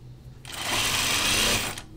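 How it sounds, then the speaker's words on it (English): A sewing machine stitches a straight seam on a dress, starting up and running in a steady, loud, close mechanical whir for about a second before stopping. "I'm going to correct that deficiency right there by sewing next to it, but straight, just like that."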